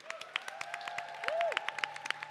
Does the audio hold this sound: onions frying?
no